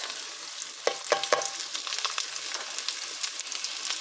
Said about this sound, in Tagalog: Now we're frying. Okay, just brown.